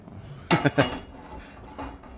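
Pots and pans clank and clatter in a home kitchen while Japanese curry is being cooked, with a quick burst of three metallic knocks followed by a fainter clink, close by and with no talking.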